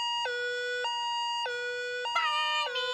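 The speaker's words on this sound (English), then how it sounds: "the sound of an ambulance" Cartoon ambulance siren from a Simpsons scene, a two-tone wail alternating steadily between high and low pitches, loud and close, with no talking.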